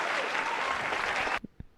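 Applause from a small group during a live stream shed session, a dense burst of clapping that cuts off abruptly near the end, followed by a couple of faint knocks.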